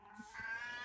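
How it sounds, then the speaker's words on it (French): A pet cat meows once indoors, a faint, drawn-out mew that rises and holds, heard close but quiet. "je suis désolée, c'est mon chat qui miaule"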